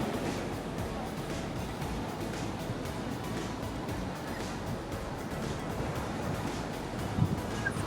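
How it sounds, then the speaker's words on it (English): Ocean surf at Santa Monica Beach, a steady broadband wash with wind noise rolling continuously at moderate level, with no clear separate wave crashes standing out. "can hear the ocean waves"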